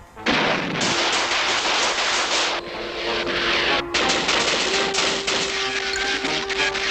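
Cartoon gunfire as police and army open fire, a loud, dense barrage of rapid shots and bursts that continues almost without pause, with a brief break near the middle.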